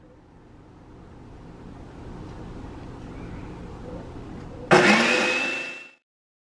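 A kitchen blender grinding tough ginger root with a little water switches on abruptly with a loud, close whirring roar, runs for about a second, then cuts off, after a quieter stretch of low background noise.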